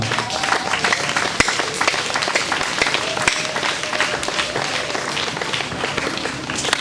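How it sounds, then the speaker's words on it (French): A crowd claps for the abbé Gaspard at a community gathering, loud and close, with dense overlapping hand claps and some sharp individual smacks running the whole stretch, and no speech on top. "Mes amis, on peut applaudir pour M. l'abbé Gaspard."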